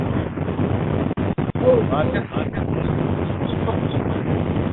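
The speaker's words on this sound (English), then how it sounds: "Lots of wind, guys." Heavy wind buffeting an outdoor microphone, a constant low roar with a few brief dropouts, while a person talks underneath.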